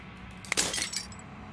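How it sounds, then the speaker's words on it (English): Glass shattering in a single crash, a sharp burst of breaking fragments followed by a few scattered tinkling pieces, brief and moderately loud. "As the final fragment of glass shatters, you see yourself with newfound clarity."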